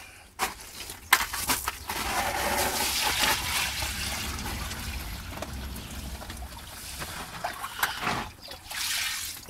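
Two buckets of about 20 litres of water are poured onto a homemade drainage pit built from waste materials, giving a sustained outdoor splash and gush of water soaking into the ground, with a few sharp knocks around it and no speech.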